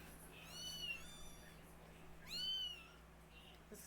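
Kittens meowing, including a little black kitten, two high rising mews a second or so apart over quiet room noise, close by and alone without talk.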